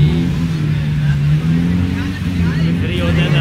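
A nearby motorcycle engine runs with a steady, low humming drone that holds an even pitch without sharp revs, while people talk over it.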